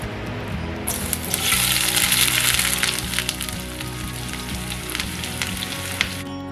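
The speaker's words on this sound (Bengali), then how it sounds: "এখন আমি এতে পেঁয়াজ দিয়ে দিব।" Onions sizzle and crackle loudly in hot oil while mixed dal khichuri is cooked, a dense steady frying hiss that swells after the first second and then holds, with small pops and stirring clatter throughout.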